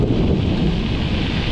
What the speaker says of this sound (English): It's probably one of the loudest lightning bolts I've heard in a while.